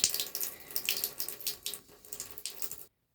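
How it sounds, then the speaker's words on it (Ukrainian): Tap water runs steadily into a small tub for bathing a baby doll, a close, continuous rushing splash that stops abruptly at the end. "Зараз трошки наберемо води, зовсім небагато."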